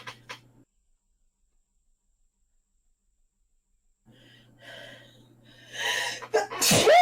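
A single loud sneeze bursts out at the end, close to the microphone, after a quiet stretch with a brief voice fragment at the start and faint breathy sounds building up just before it.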